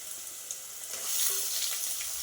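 Garlic and onion sauté in hot oil for a bottle gourd kara kuzhambu curry, giving a soft, even sizzle and crackle that stays close and continuous without any talk.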